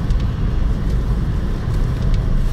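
Haval H6 engine running at low revs around 1000 rpm while driving, a steady low rumble with road noise filling the cabin throughout, no voices.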